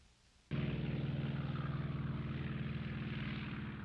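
de Havilland Mosquito, a World War II twin-engine propeller aircraft, in flight: a loud, steady droning engine roar that starts abruptly and holds with a fast pulsing beat, close and continuous.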